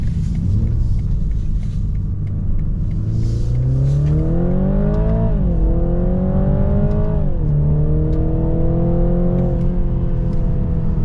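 A 2022 BMW Z4 2.0 sDrive in Sport Plus accelerates hard with a loud, close engine drone climbing steadily in pitch, dropping sharply at two gear shifts before rising again.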